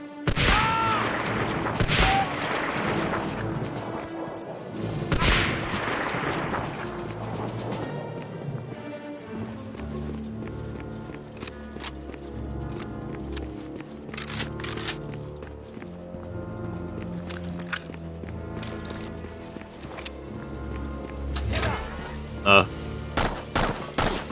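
Gunfire in the video game Medal of Honor: Frontline on PS2, a few sharp shots and bursts over background game audio, with loud cracks near the start and more scattered reports later.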